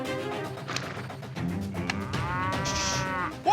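A cow on a steep Alabama hillside, being driven back down toward a trailer, moos in drawn-out calls, loud and close, against a low outdoor background.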